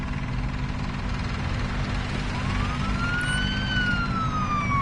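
An emergency siren from the Police Simulator video game wails on a rising and falling tone over a steady low engine drone, moderately loud with no talk.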